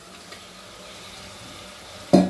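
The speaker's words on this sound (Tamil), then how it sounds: "இப்போ இந்த சிக்கனை உள்ளே போட்டுடலாம்." Raw chicken goes into hot biryani masala with ginger and garlic in a pressure cooker. A soft simmering hiss runs underneath, then a loud sizzle and a scrape as the pieces land and are stirred.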